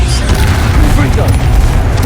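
A fire spell explodes in the video game Hogwarts Legacy, a loud deep boom with crackling bursts, close and heavy, with a voice talking over it.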